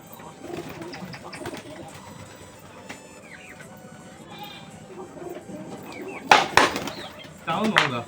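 Soft pigeon coos amid a busy, cluttered background, with a few louder sharp bird calls bursting in near the end.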